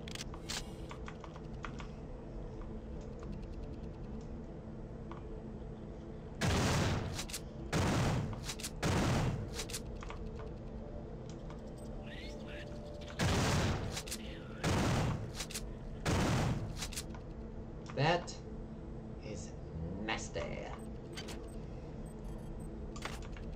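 A shotgun firing rocket slugs in a horror video game, several loud broadband blasts in separated bursts over a steady low hum, with a few quicker shots grouped together.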